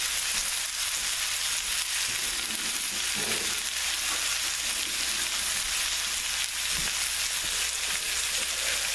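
A pan of Swiss steak drippings being deglazed with wine, a broad, even sizzling hiss held steady and fairly quiet, with a few soft stirring knocks and no talking.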